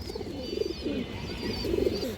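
Large female pigeons of an old Bangladeshi road-line breed coo in low, throaty bursts, several repeated calls close by over a faint hum, with no talking.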